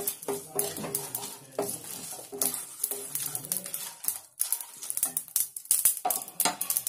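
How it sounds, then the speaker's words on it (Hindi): Black cardamom pods are lightly roasted in a pan for dhaba-style chicken, with a quiet sizzle under frequent sharp clinks and scrapes of a utensil stirring against the pan. "बड़ी इलायची इनको डाल के हल्का सा भून लेंगे"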